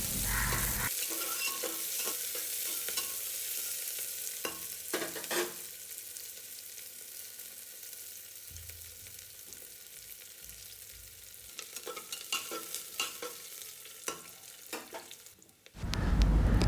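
Onions sizzle and fry in hot oil with whole spices such as cinnamon, a steady crackling hiss with occasional scraping stirs, growing louder toward the end, with no talking.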